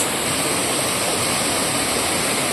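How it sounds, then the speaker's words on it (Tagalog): Layahan Falls roars as a steady, dense rush of falling water, close and loud with no break, and no voices over it. "Layahan Falls."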